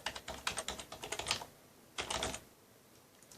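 An administrator password is typed on a computer keyboard in two quick bursts of close, soft key clicks, separated by a short pause, with no talking.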